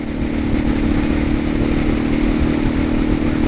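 A Suzuki DR650 dual-sport motorcycle cruising steadily in fifth gear at highway speed, its engine drone loud and constant with wind rush throughout and no talking.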